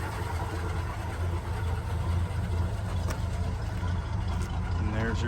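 Close and steady, the six-cylinder engine of a 1959 Chevrolet 3100 pickup idles with a low, even rumble, broken by a few faint clicks and a brief higher squeak near the end.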